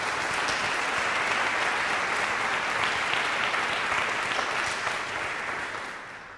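Graduation audience at a Peabody commencement applauding steadily, a dense, loud wash of clapping that holds throughout and tapers slightly at the end, with no talk over it.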